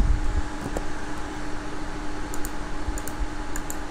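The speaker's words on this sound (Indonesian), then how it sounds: "Jadi saya bisa langsung mengetik data selanjutnya" Soft keystrokes on a computer keyboard tap irregularly under a steady fan hum, faint and close, with a few brief clicks and no talk.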